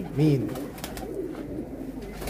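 Pigeons give a brief coo near the start, with ongoing talk and room noise through the rest.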